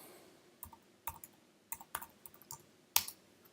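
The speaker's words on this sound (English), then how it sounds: "Now I'll type in the new name" Keys on a computer keyboard are tapped in a short, irregular run of light clicks in a quiet room, with one sharper keystroke near the end.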